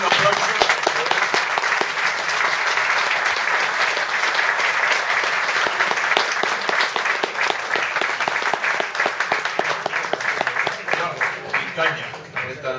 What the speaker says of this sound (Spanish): Primero un aplauso.